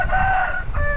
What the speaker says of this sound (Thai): ไก่ไก่ชนครับผมไก่ชน